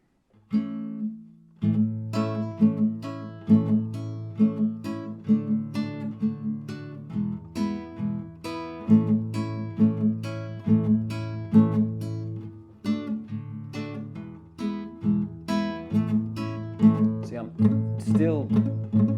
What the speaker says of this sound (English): you could hear the bass sort of ringing in the background